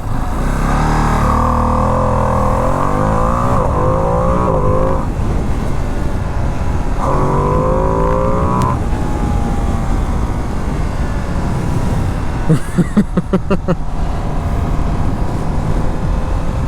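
A 2025 Ducati Panigale V2 motorcycle engine revs up through several gears while riding, its loud close drone rising in pitch, dropping at each shift and rising again, over steady wind rush.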